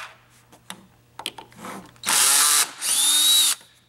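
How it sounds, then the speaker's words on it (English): A power driver fitted with a number 3 Phillips bit runs in two loud, sustained whirring bursts as it backs screws out of a pedal boat propeller assembly, with a few faint clicks and handling noises before them. "This is a number 3 Phillips bit with a power driver here."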